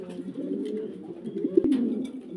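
Pigeons at a pigeon farm coo steadily in a low, continuous murmur, with a brief sharp click partway through.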